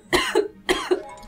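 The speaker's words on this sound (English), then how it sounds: "I was laughing and then I started coughing because I was laughing." A person coughs twice in quick, harsh bursts after a fit of laughter, close and fairly loud with no speech.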